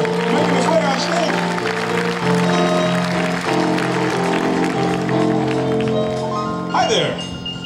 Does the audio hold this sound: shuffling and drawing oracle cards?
no